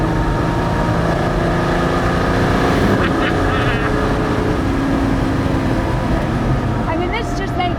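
Ferrari 250 SWB Revival engine droning steadily while driving on the road, a loud continuous rumbling note with slight shifts in pitch, under someone talking.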